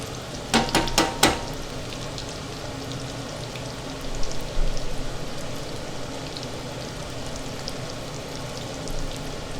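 Food frying in oil in a pan, a steady close sizzle with a few sharp crackling bursts near the start and another cluster of pops midway, then continuing softly on its own.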